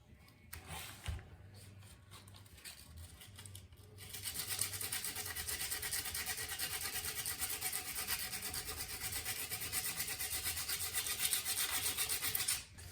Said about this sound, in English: And this is just 80 grit sandpaper.